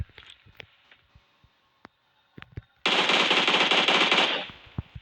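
A long, rapid burst of automatic gunfire in a video game erupts after scattered faint clicks and thumps, loud and continuous for over a second before cutting off.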